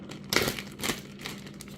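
Plastic bag crinkles and rustles in several bursts as pork loin is handled inside it for pounding, close and fairly quiet with no talk.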